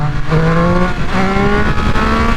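A 2022 Triumph Speed Triple 1200 motorcycle, ECU flash tuned, pulls hard on the throttle in second gear, its engine note climbing in repeated rising sweeps, loud and close with no talking.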